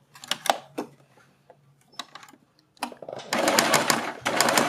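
Sewing machine stitching along a neck design strip on a suit, starting with short stop-start bursts and then running in a steady, louder stretch near the end.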